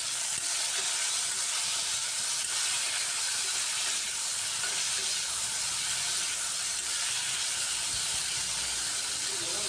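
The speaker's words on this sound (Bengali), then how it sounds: "সামান্য হলুদ আর খুব সামান্য লবণ দিয়ে শিমগুলোকে ভেজে নিচ্ছি।" Flat beans frying with turmeric and a little salt in a pan, a soft continuous hiss and sizzle that stays level and fairly quiet throughout.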